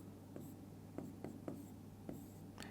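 Hand writing a number during a maths lesson, soft pen strokes scratching in short separate marks, faint and close with no voices over them.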